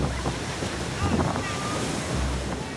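Ocean waves break along a Hawaii shoreline in a loud, steady roar of surf, heavily buffeted by wind across the microphone, with two deeper surges of water rising through the wash.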